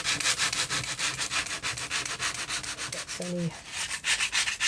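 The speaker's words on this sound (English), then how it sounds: "just go over them a little bit with an emery board or a low grade sandpaper" Rhythmic, scratchy back-and-forth rasping comes from an emery board rubbing over a napkin-decorated journal page, close and steady, with a brief voice heard partway through.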